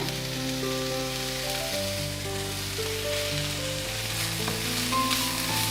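Cabbage stir fry steaming and cooking in a pan without added water, giving a continuous even sizzle with faint stirring beneath steady tonal background hum, close and constant.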